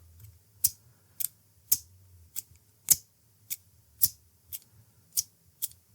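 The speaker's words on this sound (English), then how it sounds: "I have a pair of scissors." A pair of scissors snips about ten times at a steady, unhurried pace, each cut crisp and close against near silence.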